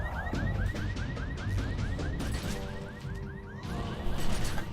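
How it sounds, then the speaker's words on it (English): A car alarm in The Secret World video game wails with a rapid repeating whoop, loud and continuous over game ambience. "it says there to jump on a car to trigger the alarm"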